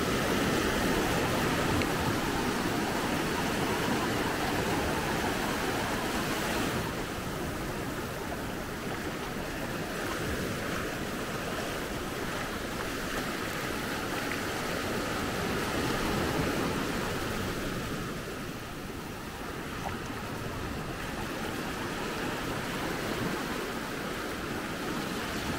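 Ocean waves at the beach in Maspalomas, Gran Canaria, give a steady broad wash of surf with gentle swells and dips in loudness, continuous and unaccompanied by talk.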